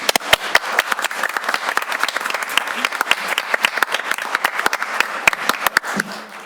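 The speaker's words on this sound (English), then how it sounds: "I think you should give yourselves a round of applause." Steady, dense clapping from a group at a board of education meeting fills the whole stretch, sharp individual claps standing out over a continuous wash of applause.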